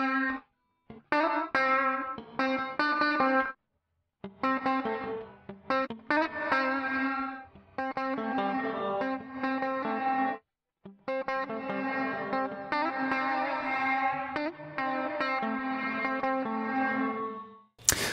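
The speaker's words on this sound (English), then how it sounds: "let's finally test the gated and reverse reverbs." A distorted electric guitar plays choppy chords and phrases through UJAM UFX Reverb gated and reverse reverb effects, with abrupt gated cutoffs and swelling, backward-sounding tails between bursts.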